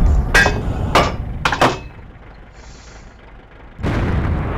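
Tank gun shots in World of Tanks ring out as several sharp, loud booms in quick succession, with a brief lull before another heavy blast and rumbling battle noise.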